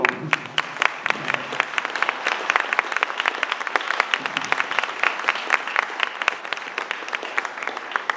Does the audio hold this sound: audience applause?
yes